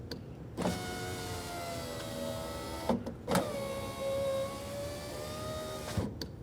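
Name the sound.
rear power window motor raising and lowering window, Nissan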